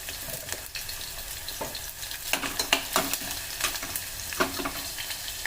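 Cumin and mustard seeds fry in hot oil for dal khichdi, giving a continuous close sizzle with scattered sharp pops and crackles and no talk.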